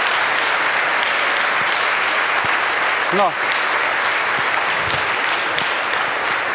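An audience claps steadily through a classroom demonstration of energy conversion, a dense, even wash of applause from start to finish, with one brief spoken interjection near the middle.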